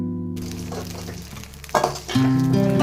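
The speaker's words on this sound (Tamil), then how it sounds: "பட பட பட பொரிய ஆரம்பிச்சிருச்சு" Herbal tooth powder ingredients, including dry ginger, crackle and pop as they dry roast in a pan on a stove over low heat, with scattered sharp snaps over a steady hum and tonal background sounds.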